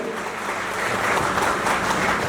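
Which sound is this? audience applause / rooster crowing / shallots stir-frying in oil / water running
audience applause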